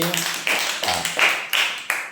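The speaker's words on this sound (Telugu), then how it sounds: "అందరు క్లాప్స్ కొట్టండి" Children in a Telugu second-grade classroom clap together in a few short bursts, each a quick rippling patter of many small hands, close and lively, with no talking over it.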